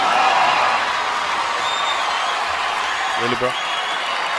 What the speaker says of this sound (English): Trump to cheers from the crowd.